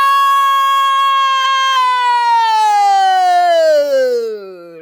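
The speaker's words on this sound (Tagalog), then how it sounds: "Yan po ang alarm, yan po ang wangwang" A loud, steady siren wail holds one tone, then slowly glides downward and fades out at the end, with no voices.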